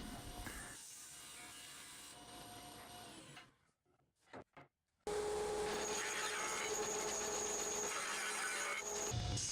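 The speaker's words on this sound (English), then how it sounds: "I cut the cherry." Cherry wood cut for a chessboard frame by a power saw, a loud steady whine that drops out briefly before resuming at full strength and running to the end.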